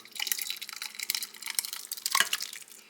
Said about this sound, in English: we're going to get this chili poured in.